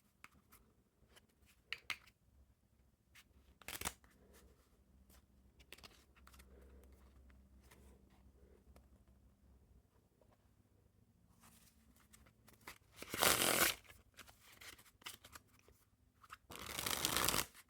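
Regenesis playing cards by Zalem are shuffled by hand, quiet flicks and riffles with a few loud riffle bursts close to the microphone, no talking.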